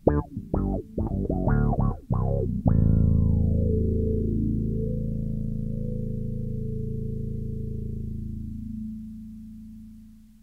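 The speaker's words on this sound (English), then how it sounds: "I'm going to switch the octave on with the GR2 passive P-bass." Passive P-bass run through a 3Leaf Audio GR2 envelope filter with an MXR octave pedal: several quick, quacky filtered plucks, then one long sustained low note whose filter sweep slowly settles and fades.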